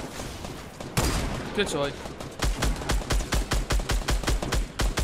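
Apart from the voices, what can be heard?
gunfire in the video game Fortnite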